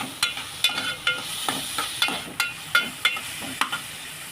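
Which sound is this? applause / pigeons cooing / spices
spices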